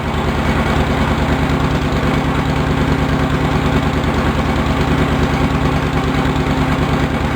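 A Cub Cadet 1650 four-wheel-drive garden tractor engine idles at a loud, steady, rapid pulse with constant vibration. The sound holds unchanged throughout, with no talking.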